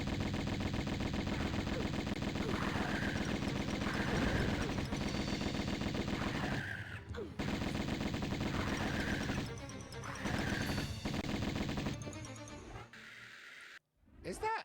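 Rapid gunfire from a video game crackles in sustained volleys, loud and close, with brief pauses and bursts of other game sounds between the stretches of shooting.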